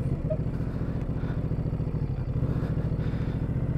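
Ducati Multistrada V2 S motorcycle engine, a 2023 model, holding a steady low rumbling drone in first gear during a steering stem lock test, close and continuous throughout.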